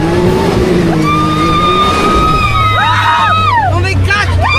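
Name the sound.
car driving through jungle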